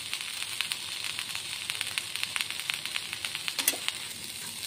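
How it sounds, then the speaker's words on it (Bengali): Chili powder and cumin powder sizzle steadily in a pan while being sautéed for a Bengali banana flower curry, a close, even crackling fry with occasional stirring scrapes. "ভালো করে একটু কষিয়ে নেব।"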